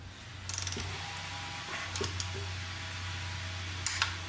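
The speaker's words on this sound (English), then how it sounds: "Now we're just going to torque them." A torque wrench clicks and ratchets while tightening bolts on a Vespa GTV-300 scooter during belt and pulley maintenance, giving a few sharp mechanical clicks over a steady low hum.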